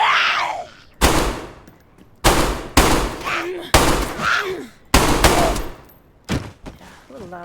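Six loud, close gunshots from a gun in DayZ on the Sakhal map crack out at roughly one-second intervals, with a voice speaking in the gaps between them.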